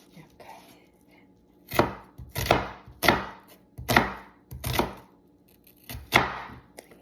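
Knife chops string beans for adobong sitaw on a board, about seven crisp rhythmic thuds in close succession, near and clear with no talking.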